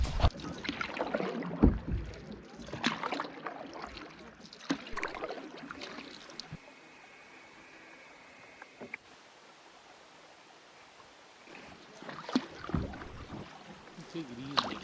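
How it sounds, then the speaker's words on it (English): A canoe is paddled on the Moose River in the backcountry, with irregular splashes and dips of the paddle and water swishing along the hull, busier at the start and end and quieter in the middle. "And yeah, back to paddling."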